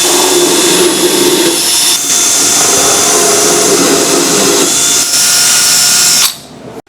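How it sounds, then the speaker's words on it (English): A loud power drill whines steadily for about six seconds while drilling holes in a truck bed, with small shifts in pitch, then cuts off abruptly near the end. "finish off drilling the holes and putting the rib nuts"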